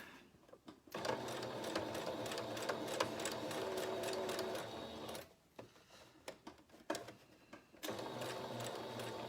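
A sewing machine back stitches a face mask seam, its rapid mechanical whirring running in close bursts broken by short pauses and restarts.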